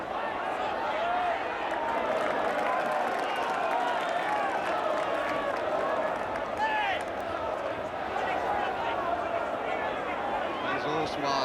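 A packed football stadium roars after a goal, a dense and sustained wall of cheering at steady loudness, with a commentator talking over it throughout.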